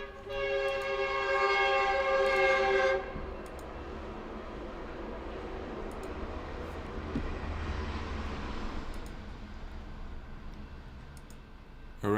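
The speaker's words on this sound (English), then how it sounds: "Let's let the train pass." A train passing nearby, its horn blaring loudly for the first few seconds before the rumble and rattle of the cars rolling by continues steadily and gradually fades.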